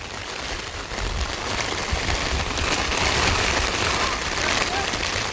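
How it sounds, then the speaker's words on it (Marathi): Heavy rain driven by wind beats down in a loud, continuous rush over a Konkan rice-farming area, swelling after the first second and holding steady. "वारा पाऊस जाम आहे"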